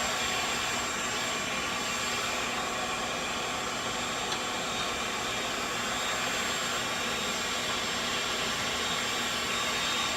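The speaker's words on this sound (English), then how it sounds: "I'm standing next to this furnace" A forge furnace roars steadily while heating cable Damascus steel, a loud, constant broadband rush with no pauses and no talking.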